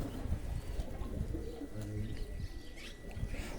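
Pigeons cooing in a pigeon loft, soft repeated low coos with faint chirps over a quiet background, no talk.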